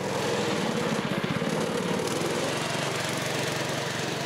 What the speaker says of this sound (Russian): Рев моторов на площадке 3-й спортивной школы Олимпийского резерва теперь будет раздаваться круглый год.